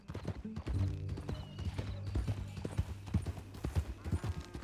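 Horse hooves clip-clop steadily in the Red Dead Redemption video game, a rhythmic close trot over a sustained low musical hum with scattered other sounds.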